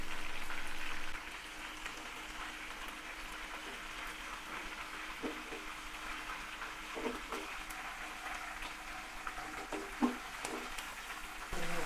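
Chicken pieces for a smoky chicken tikka biryani frying in hot oil, a steady, even sizzle with a few louder crackles and pops toward the end.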